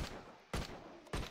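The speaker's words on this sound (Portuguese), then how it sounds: "vou dar outro tiro na cabeça" Two sharp in-game gunshots ring out about half a second apart, each a loud crack with a short decaying tail, fired at a zombie's head in the shooter game Left to Survive.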